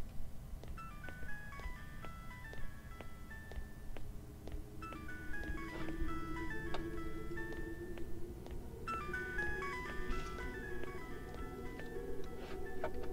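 A phone plays a repeating melodic ringtone, bright chiming notes in steady phrases that go on unanswered over a constant low background hum.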